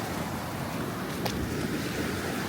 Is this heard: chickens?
no